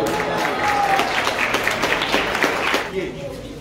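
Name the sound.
audience applause at Rubik's cube competition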